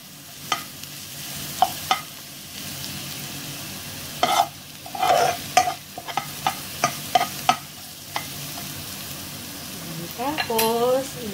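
Garlic stir-fries in a pan for a spicy tokwa and string-bean dish, a steady sizzle broken by sharp, close scrapes and taps of a spatula against the pan at irregular intervals, with a brief voice near the end.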